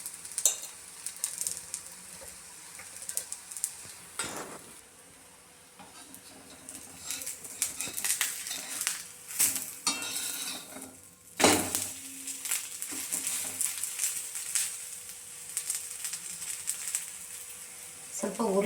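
Thalipattu flatbread fries in oil on a pan, a faint, uneven sizzle and crackle with clatters of utensils and a pause partway, under occasional talk.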